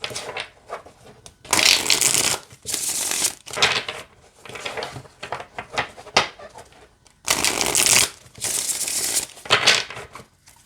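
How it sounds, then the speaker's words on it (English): Tarot cards are riffled and shuffled in several bursts of crisp, fluttering noise, with short pauses and small taps between the bursts. "I don't have an issue with the shuffle at all."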